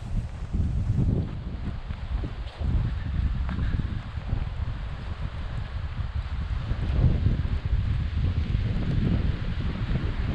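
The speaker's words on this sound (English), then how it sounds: "This is what the wind is like at 5:45 in the morning." Strong early-morning wind gusting across a lakeside campsite in Algonquin during a solo canoe trip, a steady loud roar with buffeting on the microphone and surging gusts throughout.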